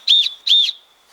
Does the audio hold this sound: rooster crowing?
no